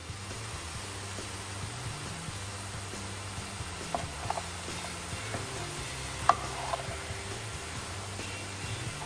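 Green chilies stirred into sizzling onion curry in a home kitchen pan, a soft steady fry hiss with faint scraping stir strokes and a few small clicks, quiet and continuous, no talking.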